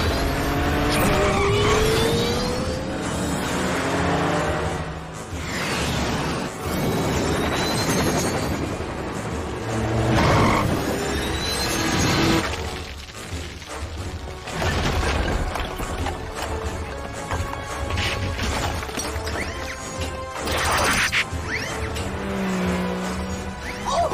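Animated car chase with engines roaring, tires skidding and squealing through repeated swerves, loud and continuous, with whooshes and pass-bys layered over a busy action mix.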